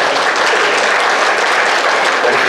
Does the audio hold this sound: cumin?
no